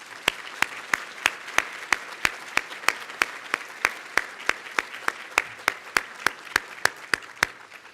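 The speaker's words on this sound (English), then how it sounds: "So let's give one more round of applause." At a fall university convocation, steady rhythmic clapping comes through in evenly spaced, crisp strikes about three per second. It sounds like one or a few nearby pairs of hands over a faint background, with no voices.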